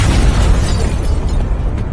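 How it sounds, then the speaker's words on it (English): A dense, rumbling explosion sound effect roars loudly and fills the whole clip, a sustained low boom that slowly fades. "With a follow-up explosion, Fenya shattered them all."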